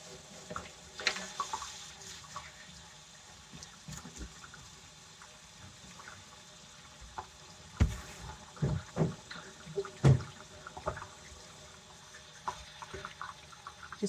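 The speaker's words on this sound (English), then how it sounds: "Wash and rinse off my herbs out of the herb basket." Fresh homestead herbs from a basket are washed under a running tap, a low continuous water flow broken by occasional louder splashes and handling knocks.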